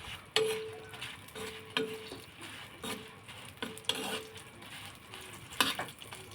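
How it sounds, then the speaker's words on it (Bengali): Dried red chilies being dry-roasted in a pan for a Bengali bharta, stirred with repeated scraping clatters and light rustling over a faint sizzle, no talking. "শুকনো মরিচগুলো আমি ভালো করে টেলে নেব।"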